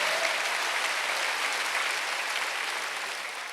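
A church congregation applauding during a Wednesday worship service, with dense, sustained clapping from many hands filling the room evenly and tapering slightly toward the end.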